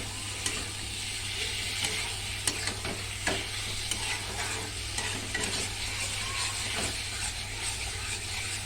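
Food being stirred and sautéed (kasha style) in a pan on a home stove, with a steady frying sizzle and hiss running throughout and scattered scraping clicks of a spoon against the pan, close by with no voices.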